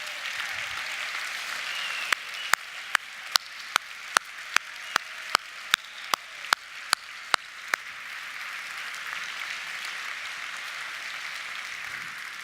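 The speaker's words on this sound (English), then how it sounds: "let's give you all a round of applause for your efforts from last year" Sustained audience applause at a 2017 ASEA convention as a class stands to be recognised, a dense steady wash of clapping running throughout, with a series of sharp, evenly spaced louder claps or thumps standing out in the first half.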